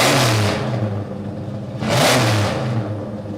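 A V8 muscle car engine revs hard in two loud surges, each climbing and falling back to a rumbling idle, heard up close with no talking.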